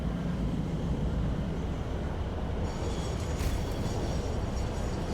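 A video game train rolls along its track with a steady, loud, dense rumble and clatter that never lets up, with a faint hiss rising partway through and no one talking.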